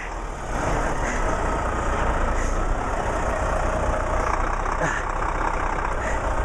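A truck engine idles and rumbles steadily on a highway, a loud, continuous low drone with faint hissing bursts like air brakes, and voices are heard over it.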